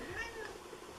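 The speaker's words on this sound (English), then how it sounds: "this is my special needs cat" A house cat with cerebellar disease gives a short, faint meow indoors, a single thin wavering cry heard alone.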